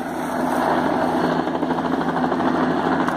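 A steady, droning firefighting helicopter engine with rhythmic rotor pulsing over a major forest fire, loud and continuous throughout, no voices.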